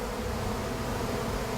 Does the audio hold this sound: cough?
no